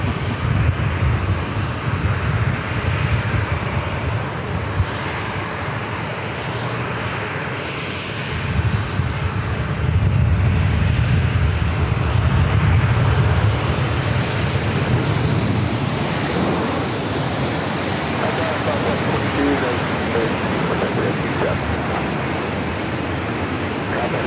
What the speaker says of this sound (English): Next arrival is that flight coming in from Chicago O'Hare, flight 2683, a 737-900ER.